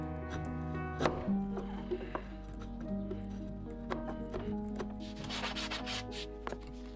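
A hand plane smoothing a long stretch of wood while building a double desk, with soft rubbing strokes and occasional knocks over a steady low hum.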